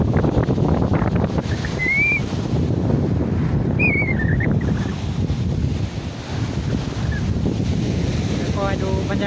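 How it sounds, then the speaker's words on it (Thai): Sea waves wash onto a beach at night around seven in the evening, the surf rolling continuously under heavy wind buffeting on the microphone, with faint voices and a few high whistling chirps in the background. "นี่ครับคลื่นก็แรงนิดหน่อยครับ"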